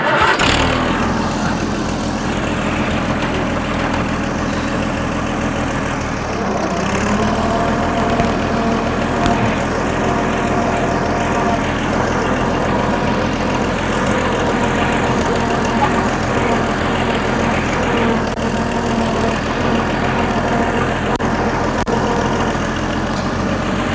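Oliver 77 antique tractor engine starting with a brief burst, then idling steadily and loud at close range for the rest of the time, its low mechanical rumble continuous and unbroken, with no talking.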